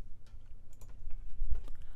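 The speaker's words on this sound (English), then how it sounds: "You'll just have to ensure you're typing the correct password." Soft, sparse key clicks come from a computer keyboard as a password is typed during a router software installation, with irregular taps spread across a couple of seconds and low background hum.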